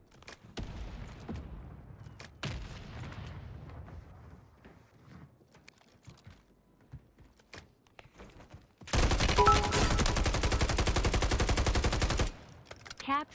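Sustained automatic fire from an SVA 545 rifle in Warzone 3 on Rebirth Island, a dense loud burst of about three seconds coming after scattered single shots and quieter game noise.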